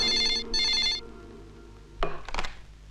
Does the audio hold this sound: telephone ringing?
yes